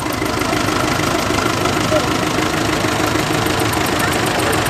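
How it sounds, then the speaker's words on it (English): Continuous rumbling of Massey Ferguson tractor engines idling and running together in a show arena parade, a steady mid-pitched throb that holds level throughout. "Now it's time for some of the Massey Fergusons to put on a parade in the main arena."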